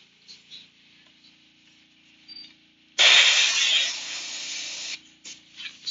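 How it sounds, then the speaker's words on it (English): An airbrush compressor runs close by, a loud broadband hissing burst that starts abruptly and holds for about two seconds, then cuts off, with quieter hiss and faint background hum around it. "Excuse my compressor. It's closer today than it usually is."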